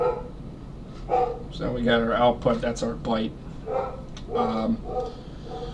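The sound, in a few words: dog barking in the background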